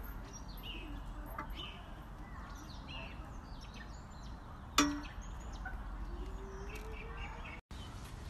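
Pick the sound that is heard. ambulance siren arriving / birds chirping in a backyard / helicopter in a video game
birds chirping in a backyard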